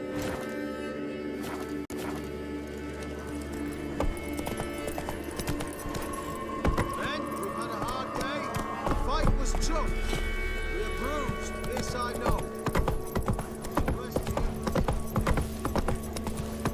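Roach, a horse in the video game The Witcher 3, clip-clops along in a steady walking rhythm of hoof strikes. A short whinny, background music and game ambience run underneath.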